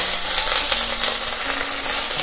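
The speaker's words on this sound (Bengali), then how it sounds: "ফোড়নটাকে একটু তেলে নাড়িয়ে চাড়িয়ে নিচ্ছি এবারে আমি এতে দিয়ে দেব আদা বাটা" Whole spices for a Bengali potol dolma tempering are stirred in hot oil before ginger paste goes in, giving a steady broadband sizzle that stays close and even throughout, with no voices.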